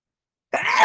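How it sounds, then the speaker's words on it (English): A single sneeze bursts out after half a second of silence, loud and close, with a breathy, throat-clearing quality that trails off over the final moments. "oh, I'm going to sneeze"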